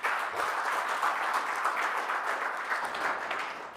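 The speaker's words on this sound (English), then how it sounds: "Let us give a round of applause to our government for that." An audience at a regional state-of-the-region address gives a sustained round of applause, dense and steady throughout at moderate loudness with no voices over it.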